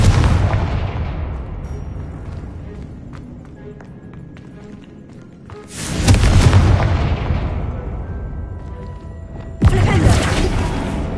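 Confringo blasting spells explode in Hogwarts Legacy, two loud broadband blasts landing a few seconds apart, each one decaying into a long rumbling tail over busy game noise.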